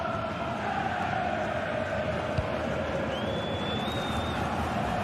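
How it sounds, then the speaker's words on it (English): Football stadium crowd during a match, a steady dense roar of many voices rising and holding loud throughout, with a whistle-like tone sliding briefly across the middle. "Well, just listen to this crowd."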